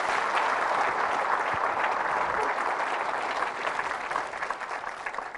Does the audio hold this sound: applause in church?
yes